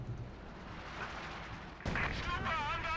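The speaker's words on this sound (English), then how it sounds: "We got Katyusha barrage coming in" A Katyusha rocket barrage lands in Company of Heroes 2, with a low rumbling roar of impacts that swells sharply partway through into dense, loud crackling blasts and whooshes.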